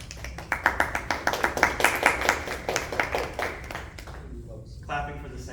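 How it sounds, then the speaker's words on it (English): A small audience claps in a quick burst of sharp, close handclaps for about four seconds, then it fades and a voice starts talking. "Clapping for the segment tree, but not the prefix."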